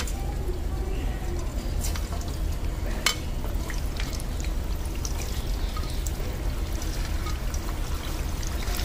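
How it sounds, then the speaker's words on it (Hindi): Potatoes frying in hot oil in a pan, a steady dense sizzle with a few brief clinks and scrapes on top throughout. "अभी आलू फ्राई कर लेंगे सबसे पहले"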